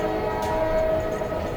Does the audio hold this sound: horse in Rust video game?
no